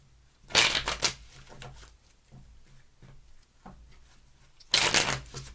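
Tarot cards riffle in two sharp, close shuffling bursts near the start, then a third burst near the end, with quiet handling between.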